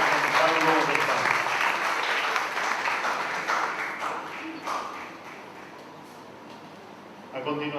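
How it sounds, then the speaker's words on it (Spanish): Sustained audience applause at an international higher-education forum in Latin America, a dense, steady wash of clapping that fades gradually before a voice briefly starts up at the end. "agradecemos con esos aplausos"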